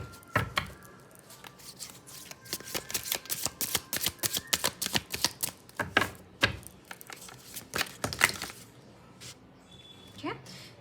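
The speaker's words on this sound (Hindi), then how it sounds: "फिर से शफल करूँगी ये कार्ड्स में।" Tarot cards shuffled by hand in a steady run of crisp, rapid riffling clicks and slaps, close and fairly loud, with a short pause and a soft voice near the end.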